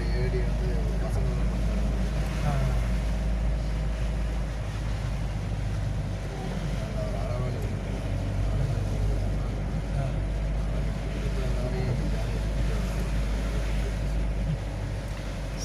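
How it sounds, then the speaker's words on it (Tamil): Strong wind from Cyclone Fani in Odisha roars in a constant, heavy rush of air and rain, a dense unbroken noise filling the whole stretch with low buffeting rumble. "என்ன சார் இவ்வளோ புயல் அடிக்குது, பயங்கரமாக அடிக்குது, பயங்கர காற்று."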